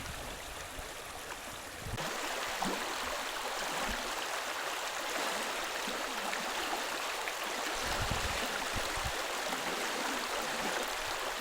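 A river runs along a village bank with a steady, even rush of flowing water, continuous and moderately close, with a few faint low knocks underneath.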